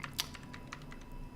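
Fingers tap a computer keyboard in a quick, soft run of keystrokes, faint and close, lasting just over a second.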